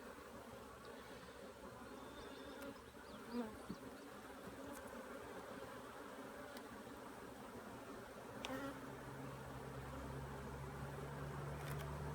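Honeybees buzz steadily in a dense, continuous drone, close by and fairly quiet, with a few brief louder passes.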